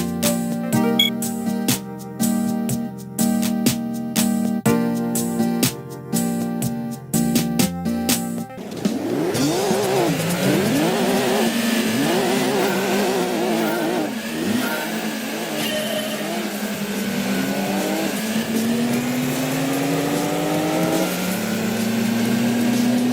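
A four-wheel-drive turbocharged Suzuki Alto Works in the Gran Turismo racing game revs loudly, its engine pitch climbing and falling through gears, following a stretch of beat-driven music at the start.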